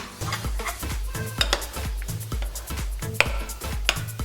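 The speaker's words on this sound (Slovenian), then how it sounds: "Beljake dodamo bananam. Prav tako naš sirup. Še tole malo premešamo." A spoon stirs egg whites, mashed bananas and syrup in a bowl, making a steady run of scraping and clinking strokes, close and fairly loud, with no voices.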